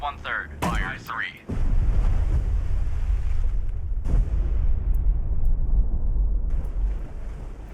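Destroyer weapons fire in a U-boat hunting video game: a short voice opens, then a heavy blast leads into a sustained loud rumbling roar with wind-like noise and a second impact midway.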